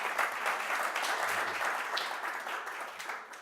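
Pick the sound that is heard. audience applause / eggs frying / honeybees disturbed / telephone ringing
audience applause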